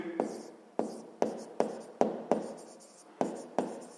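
A pen writing a maths answer on paper for a sixth-grade exercise, with about nine brisk scratchy strokes in an uneven rhythm, close and clear with no talking.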